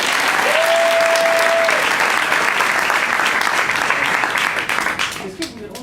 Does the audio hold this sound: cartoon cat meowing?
no